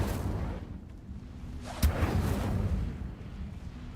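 A fire spell cast in Hogwarts Legacy gives one sharp whooshing burst near the middle, over a low rumbling game background with no talk.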